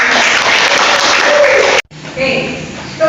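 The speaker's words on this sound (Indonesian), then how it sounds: "Tepuk tangan sekali lagi." Classroom applause for a presenting student group in a teacher-training lesson, a dense burst of clapping that cuts off abruptly, followed by a teacher's voice speaking.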